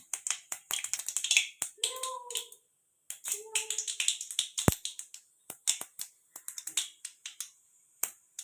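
Urad dal and chana dal fry in hot oil with mustard seeds as a tempering for pirandai thuvayal, giving close, sharp crackles and pops in irregular bursts with brief quiet gaps.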